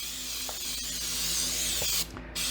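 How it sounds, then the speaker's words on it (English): Steady close hiss of an aerosol can spraying coconut-flavored lubricant in a hot tub setting, one continuous blast that briefly dips near the end. "and then spray the hell out of it."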